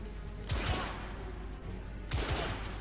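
Weapon fire in The Order: 1886, two deep, bass-heavy shots about a second and a half apart, each a sharp blast followed by a short booming tail, fairly close with no talking.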